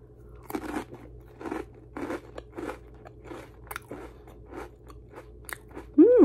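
Close, crisp crunching of a pretzel dipped in thick homemade spinach dip, a steady run of bites and chews, with a short voiced murmur at the end.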